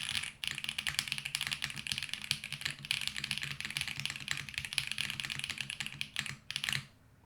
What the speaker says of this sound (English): With the angle of the mic like this, how does it pick up typing sounds?